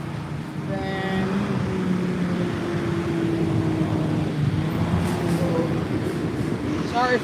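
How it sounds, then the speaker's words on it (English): A school bus rumbles past outdoors during Halloween decorating, a loud, steady engine and road roar holding for several seconds with a faint tonal whine, no one speaking. "That was a school bus that just went past."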